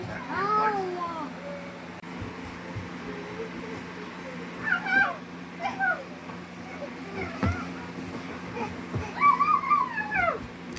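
Several high, wavering meows from children imitating cats, coming in bursts over a low steady hum, with brief mumbled talk between.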